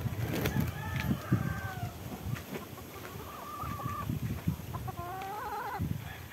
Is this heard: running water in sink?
no